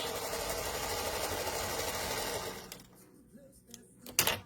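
Sewing machine running steadily as quilt pieces for a log cabin block are fed through with a quarter-inch seam, a continuous close whir for over two seconds that stops, followed by faint handling clicks in a quiet room.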